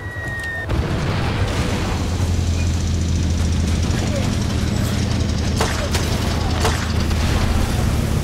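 Mortar explosions in the video game Far Cry 2 while defending a barge: a dense, continuous low rumble and booming with sharper bursts layered on top, loud and sustained throughout.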